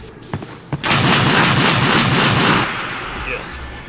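A Mossberg shotgun fires in the Left 4 Dead 2 video game, a rapid run of loud, sharp booming shots packed together for about two seconds and then fading into a quieter game background.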